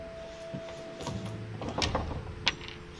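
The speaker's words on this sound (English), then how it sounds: "I heard something fall to the ground. A metallic sound, like a key falling to the floor." A key drops onto the floor in the video game The Council, heard as a few light metallic clinks and rattles over a quiet mechanical background.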